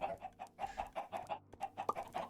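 Minecraft chickens clucking in rapid, repeated short bursts, a busy overlapping flock of fairly quiet clucks heard alone without talk.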